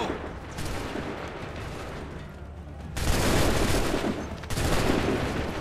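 A massed musket volley in the video game Assassin's Creed 3, a sustained dense crackle of gunfire that swells louder partway through and again near the end, with no talking.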